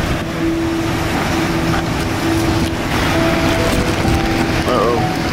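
Hurricane Michael eyewall winds buffeting a car near the ocean at Mexico Beach, a loud, constant roaring rush with rattling and faint whistling tones throughout.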